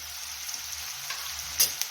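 Steady, close sizzling of onions with a little salt frying in tempering oil, with a soft scrape of stirring near the end.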